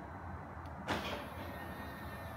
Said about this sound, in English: And lock the doors.